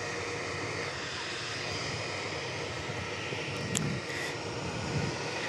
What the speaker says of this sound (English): Q400. Just touching down there, a bit of a bounce.